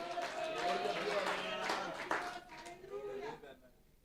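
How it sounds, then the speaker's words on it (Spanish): A church congregation at an annual retreat in Bonaire breaks into brief, close applause, a dense run of claps that thins out and fades within a few seconds. "Dale un fuerte aplauso al Rey de Gloria."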